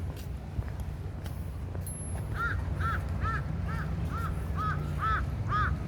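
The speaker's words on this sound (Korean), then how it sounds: "저거는 까마귀인데?" A crow calls again and again, about eight caws in a steady rhythm, faint and some distance off. Behind the calls runs constant low traffic rumble from a walking route between Songjeong Beach and Oryukdo in Haeundae, Busan.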